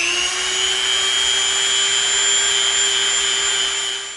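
A Dremel rotary tool with a 320-grit sanding attachment works over EVA foam, giving a steady high-pitched whine with a constant tone that holds throughout, close and fairly loud, with no talking.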